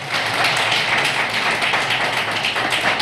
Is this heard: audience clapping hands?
yes